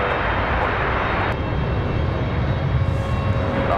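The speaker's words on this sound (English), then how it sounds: "Got an air start going for the JetBlue down here, it sounds like." An air start unit runs beside a JetBlue aircraft at an airport, making a loud, steady, broadband roar that holds constant throughout with no talk.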